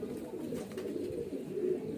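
Young highflyer pigeons coo in a loft, a soft continuous low murmuring that stays close and even, with no voices over it.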